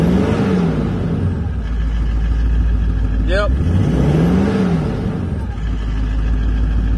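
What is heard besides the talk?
vehicle exhaust with 3-inch muffler revving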